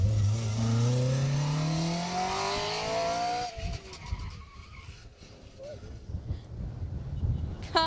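A Jersey Rally 2018 rally car, car 45, drives hard through a stage, its engine rising through gears loud and close before dropping away, leaving rough tire and gravel noise and wind buffeting as it passes.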